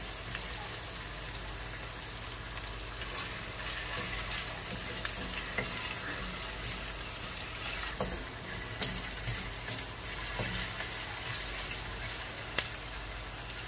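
Garlic and onion sizzle and crackle steadily in hot oil while being stirred, with occasional scraping clicks of the utensil against the pan, close and continuous with no talk.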